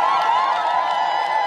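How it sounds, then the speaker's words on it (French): A dense crowd at an outdoor road inauguration cheers and shouts in a loud, steady wash of many voices without a break. "Coup de chapeau à lui, applaudissez."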